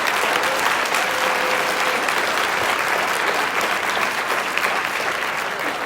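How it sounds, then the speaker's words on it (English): Sustained applause from a church congregation at New Birth Church, loud and dense throughout, steady from start to finish with no talk over it. "would you give them an applause of affirmation?"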